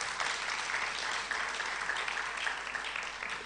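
Church congregation applauding Dr. Ferguson after an arthritis teaching, a dense, even wash of many hands clapping, steady and fairly distant with no voices over it.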